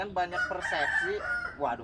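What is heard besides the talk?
rooster crowing in a village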